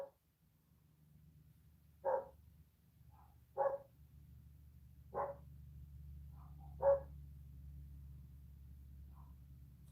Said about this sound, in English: the barking in the background